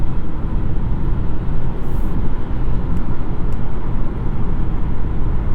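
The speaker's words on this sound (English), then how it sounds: "2-liter Accord obviously has no problem getting up to speed." A 2021 Honda Accord 2.0T Sport is heard from inside the cabin at highway speed: a steady, loud broadband rush of road and engine noise with no pauses.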